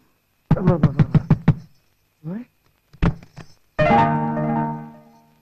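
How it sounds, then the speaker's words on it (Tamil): Knocking on a door in a Tamil comedy film scene: a quick run of about seven firm, evenly spaced raps, then a short knock and voices calling out. "யாரும் என்ன கதவை தட்டுறது?"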